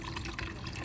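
Liquid pours steadily into a model volcano, 3% hydrogen peroxide splashing in a continuous wet rush, close and fairly loud.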